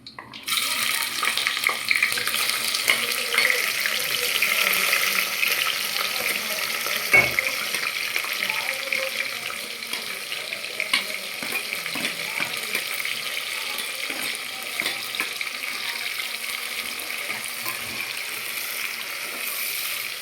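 Raw onions frying in hot oil for chicken biryani, giving a steady, loud sizzling hiss with occasional stirring clatter and no break in the sound.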